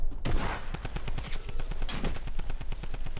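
Video game shotgun fire, a long rapid string of loud, close shots in a steady rhythm lasting the whole stretch.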